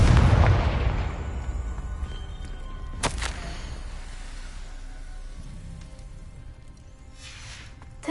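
A Confringo spell explosion in a video game: a heavy, rumbling blast at the start that fades over a couple of seconds, a sharp crack around the third second, then a quieter ambient tail.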